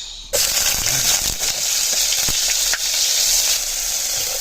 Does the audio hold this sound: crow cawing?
no